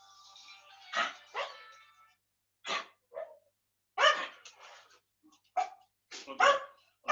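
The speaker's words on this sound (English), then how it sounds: "Every time the phone rings, my dogs go mad" Dogs bark excitedly after a phone rings indoors, several sharp close barks and yips in irregular bursts, with short quiet gaps between them.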